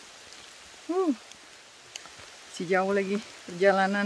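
Rain falling in a forest in the Nepal Himalaya, a soft steady hiss in the background while people talk over it.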